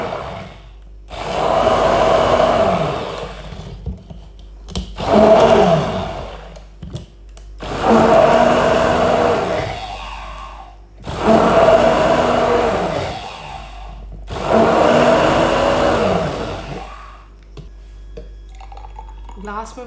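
A blender whirs through peach colada with ice cubes in five loud, close bursts of a few seconds each, separated by short pauses, with little else between runs.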